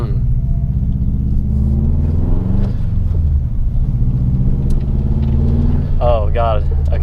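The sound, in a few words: Subaru car engine revving while driving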